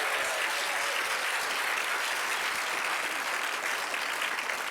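Steady, even applause from a comedy show audience for the performer's parents, a thick wash of many hands clapping at moderate level without pause.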